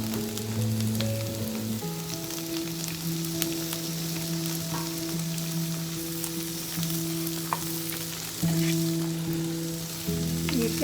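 Vegetables hit a pan of sautéed garlic and stir-fry with a constant close sizzle, broken by occasional clinks and scrapes of the spatula, no voices heard.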